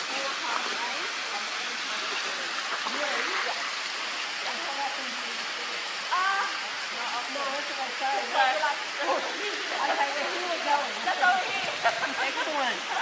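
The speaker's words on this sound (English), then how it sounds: "It's pretty amazing to see all this water." Steady rushing flow of water at Uluru, a continuous broadband wash like a stream or runoff, with voices faintly audible over it.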